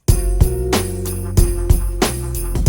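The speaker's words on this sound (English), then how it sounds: "Then we have the bells." Bright bell tones ring out over a thumping electronic beat in a horrorcore hip-hop instrumental, struck in a steady repeating rhythm.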